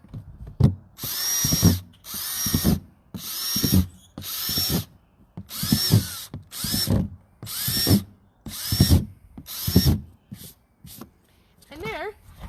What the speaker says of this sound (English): your last step is just drilling holes on the top so the whole thing can aerate